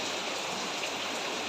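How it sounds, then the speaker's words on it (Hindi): Heavy rain pours down in a steady, dense hiss, a constant broadband wash of falling water with no pauses and no voices. "बारिश और तेज़ हो गई, आवाज़ शायद आपको सुन ही रही है अभी"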